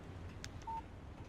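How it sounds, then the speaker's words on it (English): Phone text message alert in the Alan Wake video game: a short, thin electronic beep tone, quiet and alone against a low background hum. "Text message from Barry."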